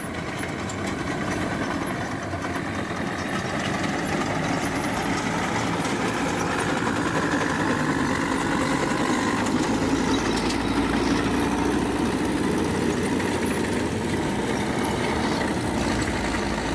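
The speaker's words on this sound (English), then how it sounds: "Now there will be played some footage of a PV-FM-22 crossing a ditch." A PV-FM-22 light tank (Leichter Kampfwagen II) crosses a ditch, its engine a steady, continuous rumble that holds at an even level throughout, with no voices.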